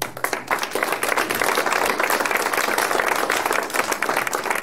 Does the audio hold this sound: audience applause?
yes